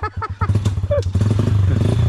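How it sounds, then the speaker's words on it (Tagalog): A motorcycle engine drones steadily on a survey trail, its low hum running beneath close, continuous talking. "Sumayot ng motor"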